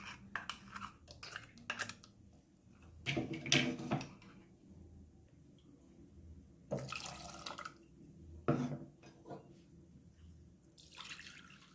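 Water poured into a pressure cooker holding rice for postpartum rice gruel, in irregular splashing bursts with quiet gaps between, close by and moderately loud.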